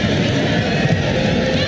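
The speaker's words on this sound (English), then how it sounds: "Crowd with a roar here." A crowd roars at a UAAP Season 81 women's volleyball match between FEU and UST, a dense, loud and continuous arena roar and babble filling the space throughout.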